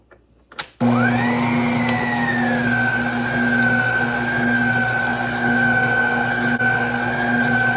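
An electric stand mixer runs steadily, beating sourdough starter into cookie dough made with browned butter and fresh-milled flour. It starts after a brief clatter and keeps a loud, even motor whine with a low hum to the end.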